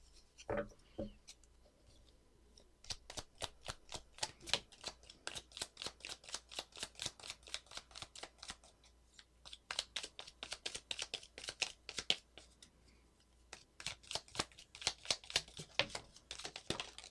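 Tarot cards are shuffled and drawn in quick, crisp riffling bursts of soft slapping and sliding, close and fairly quiet, with brief pauses between rounds.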